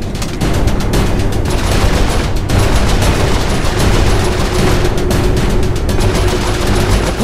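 Mounted turret firing in the game Saints Row 4, a loud, relentless rapid-fire burst of gunfire with dense repeating shots running nearly unbroken for several seconds.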